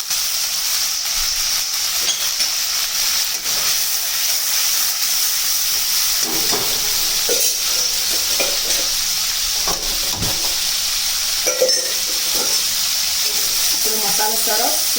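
Spice masala roasting in a pan with water and lemon juice for patra-leaf bhajiya, a steady loud sizzle with occasional stirring scrapes, no talking.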